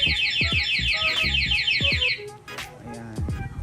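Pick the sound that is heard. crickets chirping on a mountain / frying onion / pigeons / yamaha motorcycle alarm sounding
yamaha motorcycle alarm sounding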